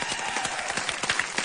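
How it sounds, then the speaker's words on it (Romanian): A studio audience at a Romanian folk music show breaks into applause, brisk overlapping clapping throughout with a faint voice underneath. "Aplauze!"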